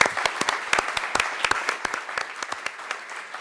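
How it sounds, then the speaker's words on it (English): Audience applause for city employees at a city council meeting: a moderate burst of scattered, uneven hand claps in a room, fairly light and sustained for a few seconds. "Give them a round of applause."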